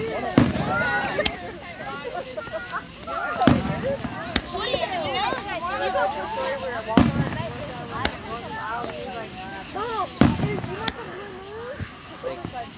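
Fireworks at a 2013 Maumelle display burst in sharp, loud cracks every few seconds, some followed by crackling tails, while a crowd chatters and talks close by throughout.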